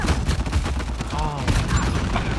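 Gunfire in the Uncharted 4 multiplayer shooter: dense, continuous bursts of shots fill the moment, mixed with game effects in a busy firefight.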